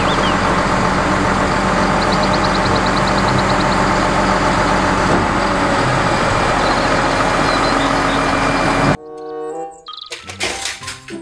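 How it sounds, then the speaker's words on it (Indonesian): Loud, steady motor whine of a toy tow truck runs unbroken for about nine seconds, then cuts off, leaving a few sparse clicks and rattles. "Mobil truk towing."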